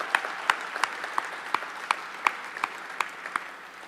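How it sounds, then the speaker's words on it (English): Applause from a benefit event audience, fairly light and even, with a few sharp individual claps standing out in a regular rhythm over the crowd's patter. "I think we can clap for that, you guys."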